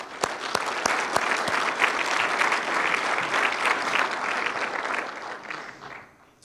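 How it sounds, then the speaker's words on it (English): Sustained audience applause fills a hall at an alumni athletics awards ceremony, a dense steady wash of clapping with a few sharp claps at the start, holding for several seconds before tapering off near the end. "let's give them a round of applause too"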